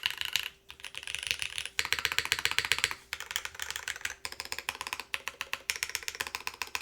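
Rapid typing on a top-mount Cloudline V2 mechanical keyboard, with crisp clacky keystrokes in quick bursts and short pauses, close and fairly quiet, with no voice.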